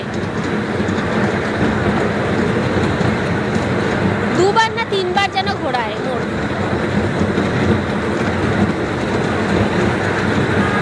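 A park toy train rolls along its track with continuous clickety-clack and a brief squealing of wheels midway, while a person talks over the rumble.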